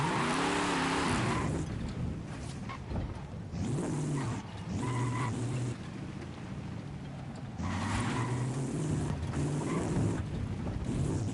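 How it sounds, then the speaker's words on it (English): Truck engine roaring and tires rumbling in a video game tower challenge, loud and continuous, with repeated surges as the engine revs and eases off, no talking. "I just love those truck sounds though."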